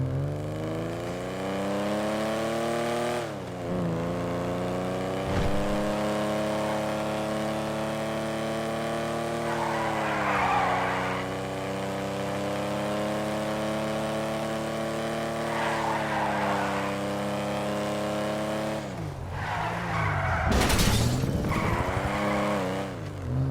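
A JB700 sports car in GTA Online roars along with a steady, loud engine drone that rises and falls through gear changes, with tire squeals and skidding bursts near the end, no voices over it.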